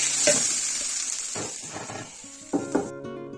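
Chopped onion sizzles steadily in a frying pan over high heat, with several scraping, clinking stirs of a utensil through it, close and loud and without talk, ending abruptly.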